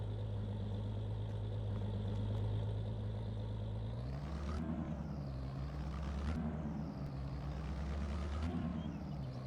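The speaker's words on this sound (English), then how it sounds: "Please wait while this tractor shifts through all available gears" A tractor engine in Farming Simulator 22 hums along, then shifts through its gears, with rising and falling whines as each gear engages in repeated sweeps, loud and close with no talking.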